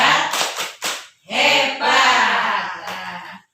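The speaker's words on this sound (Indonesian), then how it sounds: "Tepuk hebat untuk ibu-ibu semuanya." A group of mothers at a community training session does a rhythmic clapping cheer, quick bursts of claps mixed with loud chanted voices, close and lively.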